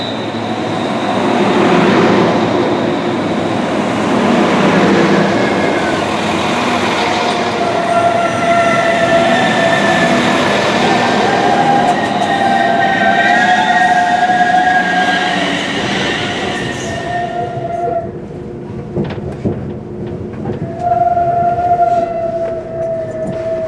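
A West Midlands Railway train in a train simulator game rumbles loudly along the Snow Hill Lines with droning engine and wheel noise, then quiets as a tonal whine lingers; no talking.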